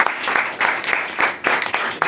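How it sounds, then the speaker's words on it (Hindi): An audience claps for a woman being honoured at a gathering, a loud burst of rhythmic applause with regular beats, lively and close. "मैडम के लिए एक बार जोरदार ताली होनी चाहिए"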